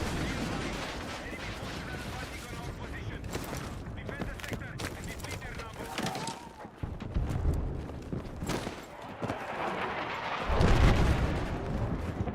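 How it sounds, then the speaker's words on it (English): Mortar fire in a Call of Duty match, with repeated booming impacts and crackling gunfire scattered through a busy battle, a heavier blast near the end. "somebody has a mortar"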